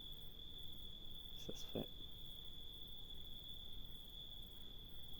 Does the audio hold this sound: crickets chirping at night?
yes